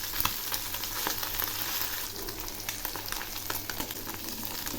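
Fish spit and crackle in hot oil after being flipped, a continuous sizzle with a few sharper pops and soft stirring scrapes, close and without speech.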